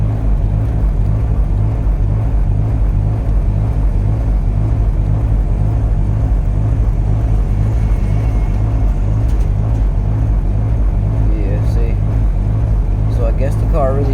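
A car engine idles roughly and unevenly, a steady low throbbing rumble with a pulsing beat, continuous and close throughout.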